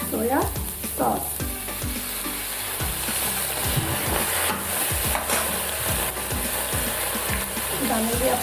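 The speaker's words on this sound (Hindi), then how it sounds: "चलिए दोस्तों अब डालते हैं इसमें सोया सॉस।" Soy sauce hitting a hot pan of frying soya chilli manchurian with green chillies: a loud, close, continuous sizzle with repeated scraping stirs and clatter of the spatula, and a voice speaking briefly over it.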